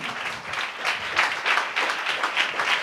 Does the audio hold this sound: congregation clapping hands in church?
yes